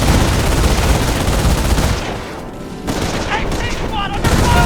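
A dense, loud fusillade of rifle and machine-gun fire rattles through a Company of Heroes battle, easing briefly before sharp shots resume, with game voices calling out beneath the gunfire.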